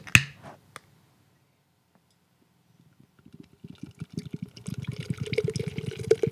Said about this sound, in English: What'd you pour? That just sounds thick as fuck.